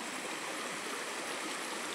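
A river flowing through a rural village valley at Cisema, Banjaran, a steady broadband rush of water that stays constant and close with no voices over it.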